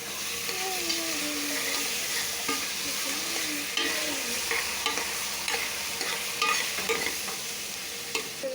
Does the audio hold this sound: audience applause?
no